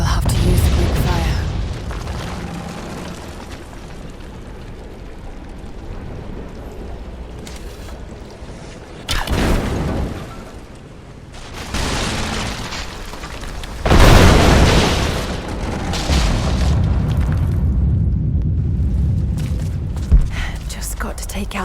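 Greek fire vessels explode in Rise of the Tomb Raider: two big, close booms about five seconds apart, each roaring briefly before fading into rumbling, crackling debris over steady ambient noise.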